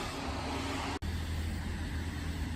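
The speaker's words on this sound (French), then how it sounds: "Puis il y a beaucoup de voitures qui passent, ça fait beaucoup de bruit." Steady roar of cars passing on a street, a continuous broadband traffic wash heard from the roadside at moderate distance, with one brief dropout.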